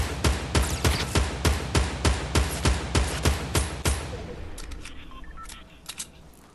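Rapid gunfire in Fortnite during a duos match: about a dozen sharp, evenly spaced shots crack in quick succession, then stop, leaving quieter background sounds and a couple of faint later pops.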